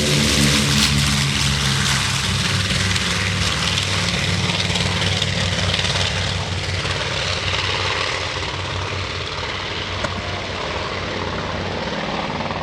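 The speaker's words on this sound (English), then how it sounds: "On the takeoff roll from the Mid-Atlantic Air Museum, here's the B-25" A North American B-25 Mitchell bomber takes off at an airshow, its piston engines producing a loud, steady roar with a deep throb that holds through the whole stretch and fades only slightly toward the end.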